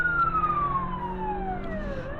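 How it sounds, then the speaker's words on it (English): Police car siren wailing during a chase, its falling tones sweeping down in overlapping cycles, loud and fairly close over a low rumble of traffic. "It's like people don't see the sirens and hear it."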